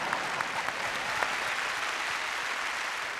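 An audience claps for singers at a Vietnamese music show, a steady dense burst of applause from a sizable crowd heard throughout.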